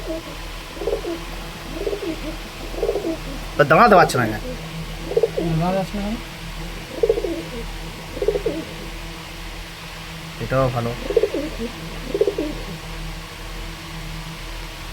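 Pigeons coo repeatedly in soft, rhythmic bursts close by, while a person talks briefly over them.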